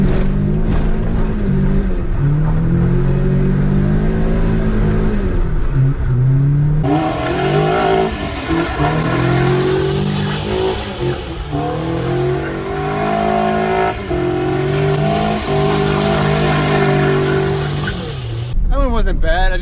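A car engine revs hard and repeatedly, its note rising and falling as the clutch is kicked to lock both wheels of a car without a diff, loud and close throughout with a person talking over it.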